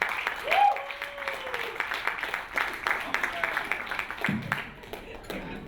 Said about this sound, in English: please give him some support and encouragement and clap